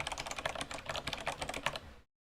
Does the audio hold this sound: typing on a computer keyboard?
yes